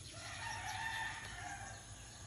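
Roosters crowing at a distance near a cockfighting arena in a rural province, a faint drawn-out call over low background hum.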